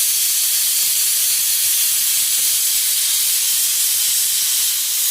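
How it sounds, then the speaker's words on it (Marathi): A pressure cooker vents steam while cooking mung beans in a home kitchen. The steady, loud hiss runs unbroken for the full five seconds with no speech. "म्हणजे कुकरच्या 2 शिट्ट्या झाल्या."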